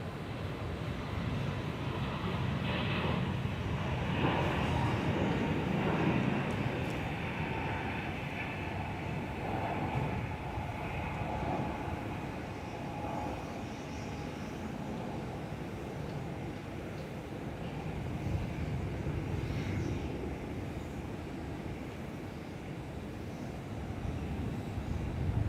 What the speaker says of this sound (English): Qantas A321 XLR on the roll.